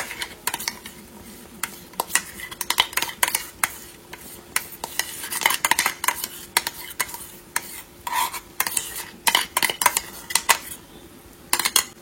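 Vegetables being tossed and stirred through a creamy sauce in a pan, with steady scraping and clinking of a utensil against the pan and a soft sizzle underneath, fairly close and without talk.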